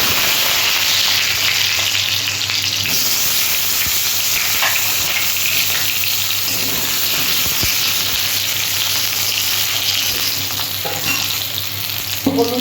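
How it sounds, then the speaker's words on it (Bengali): Eggplant fries in a pan of hot oil, a loud continuous sizzle with occasional stirring clinks and scrapes throughout, no voices. "এবার বেগুনগুলো আমি একটু ভেজে নিচ্ছি।"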